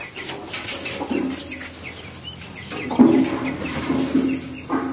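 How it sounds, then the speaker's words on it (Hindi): Low, soft clucking from a brooding hen sitting on eggs nearby, a few intermittent murmuring calls against quiet background noise. "आज हमारी एक मुर्गी सेवे पे बैठ गई है"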